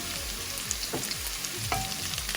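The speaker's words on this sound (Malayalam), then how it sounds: "പച്ചമുളക് കൂടെ ഇട്ടിട്ട് അത് നന്നായിട്ടൊന്ന് ഫ്രൈ ആയി വരട്ടെ" Chopped green chillies frying in hot oil in a pan for chilli chickpea masala, a continuous close sizzle with a few spatula scrapes and light clinks, nothing else heard.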